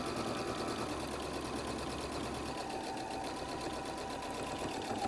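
A sewing machine basts along the top edge of fabric for a messenger bag flap, a steady, close, continuous mechanical whir without pause.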